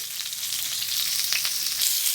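Pointed gourd (potol) pieces fry in hot oil in a pan, giving a steady, close hiss of sizzling with faint crackles and no voices.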